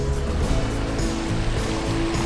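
Clear river water bubbling and glistening past herons' fishing grounds, a steady close rushing babble of current over stones that fills the short stretch without voices.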